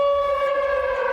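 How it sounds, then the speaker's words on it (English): Air raid alert siren wailing in Mezhova, Ukraine, near the front line, a loud steady tone sounding alone and holding for the whole moment. "Mezhova greets us with the sound of a siren,"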